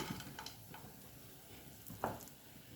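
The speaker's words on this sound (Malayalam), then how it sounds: "ഈ അണ്ടിപ്പരും മുന്തിരിയും നമ്മൾ റോസ്റ്റ് എടുക്കുമ്പോൾ മാക്സിമം ലോ ഫ്ലെയിമിലിടുക" Cashews and raisins roast in a pan over a low flame, giving a faint, soft sizzle broken by a few scattered clicks and scrapes of stirring.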